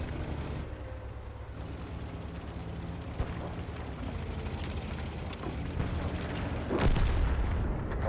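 A KV-2 tank's 152mm howitzer fires in World of Tanks, with a deep engine rumble throughout and a heavy boom building late in the clip, loud and close.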